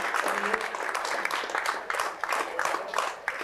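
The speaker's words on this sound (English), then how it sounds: "I would ask you to hold your applause to the end." A live audience at a 1997 mayoral debate in Attleboro claps in a loud, textured burst with distinct individual hand strikes standing out, mixed with some crowd murmur.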